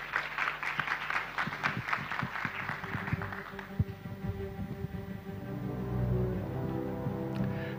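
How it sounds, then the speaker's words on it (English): An audience at a forestry event gives a speaker a round of applause, with scattered claps strongest at first and thinning out midway. A low hum and a voice take over as the clapping fades. "Please give a round of applause to Mr."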